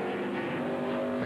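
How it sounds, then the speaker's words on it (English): A 2003 NASCAR Winston Cup race car spins out on the track, loud engine roar and tire skid blending into a steady, close, continuous wash of racing noise with no talk. "Kenny Wallace spun around."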